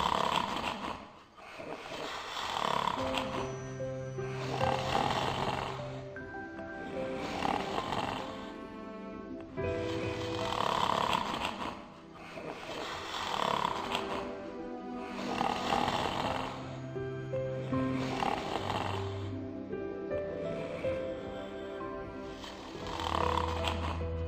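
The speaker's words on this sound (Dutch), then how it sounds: "trilde het kleine huisje van het harde gesnurk" The seven dwarfs snore loudly in their little cottage, deep rumbling breaths swelling and fading in a steady rhythm about every two and a half seconds, with no talking.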